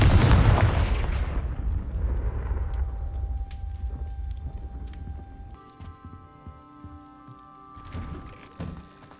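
A Confringo blasting spell going off in the Hogwarts Legacy video game, inside a spider-infested cellar. One loud booming explosion at the start rolls into a long fading rumble, then gives way to quieter game ambience.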